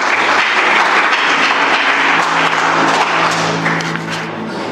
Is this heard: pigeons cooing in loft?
no